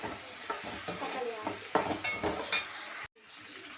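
Sliced onions with a little salt sizzle in a pan for South Indian tomato chutney, frying steadily up close while a spoon scrapes and stirs them in repeated strokes, with a brief dropout near the end.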